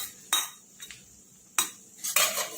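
A spoon scrapes and clinks against a pan while onions with green chilli, dried garlic and ginger paste are stirred, giving several sharp metallic strokes spaced irregularly, close and fairly loud, with no talking.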